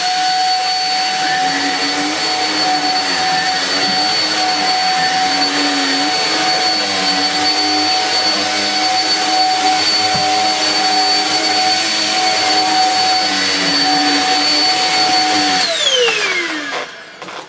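A Shark Rotator AH-540-UK vacuum cleaner runs loud and steady with a continuous motor whine and airflow roar, then powers down near the end as the pitch falls away.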